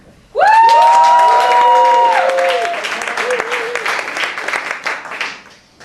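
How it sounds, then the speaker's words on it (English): Studio audience clapping, cheering and whooping to vote for a candidate: a sudden loud burst of cheers and shouted whoops over dense applause that gradually thins and fades out. "vote by clapping, cheering, or wooing for the two candidates that you would like to see advance"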